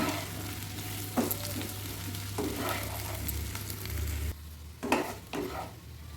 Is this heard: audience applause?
no